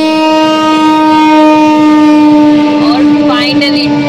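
A train arrives on a railway line in heavy fog near Sendhwa, its horn sounding a loud sustained multi-tone blast over rumbling rail noise, close and continuous, with faint voices mixed in.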